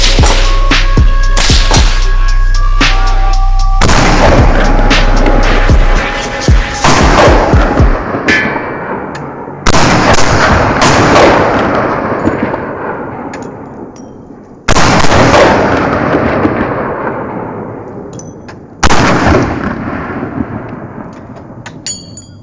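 Loud gunshots at an outdoor shooting range, several single heavy reports spaced a few seconds apart, each with a long decaying echo rolling away, following a stretch of music at the start.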